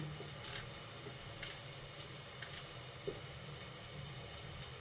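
Brinjal curry cooks in a pan, giving off a steady hiss and sizzle. A few light clinks of stirring break through now and then, and nobody speaks.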